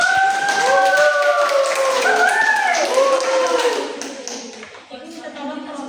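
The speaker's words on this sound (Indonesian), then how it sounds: "Beri aplaus kelompok" A classroom of students gives group 1 a round of applause, with dense clapping mixed with overlapping voices for about four seconds before it thins out.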